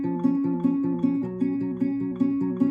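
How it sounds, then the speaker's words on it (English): Fingerpicked acoustic guitar playing the third verse of a song, a repeating pattern of plucked notes over steady low bass strings, close and clear with no voices. "So this whole part would sound like this."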